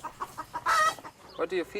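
Hens on an organic farm clucking in a rapid series of short, moderately loud calls, with one longer, louder squawk in the middle, a close flock sound over faint background noise.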